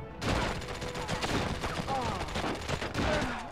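Gunfire in the video game SOCOM: U.S. Navy SEALs Combined Assault: loud, rapid bursts of automatic fire crackling almost nonstop for several seconds, with game voices mixed in.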